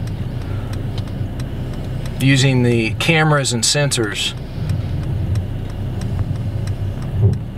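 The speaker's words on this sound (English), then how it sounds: "the car automatically drives itself into the spot" A Mercedes E-Class parks itself automatically, its low engine hum and soft ticking running steadily and close throughout while a person talks over part of it.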